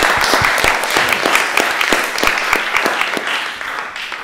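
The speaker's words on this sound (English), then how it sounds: "I think we have a little warm golf applause for them" An audience at a panel discussion on income policy gives a short round of polite applause, with steady, moderately loud clapping that fades toward the end.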